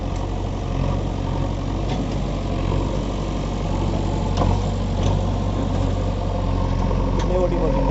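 A JCB 3DX backhoe loader's engine idles slowly at close range, giving a steady low diesel rumble that holds even for the full eight seconds.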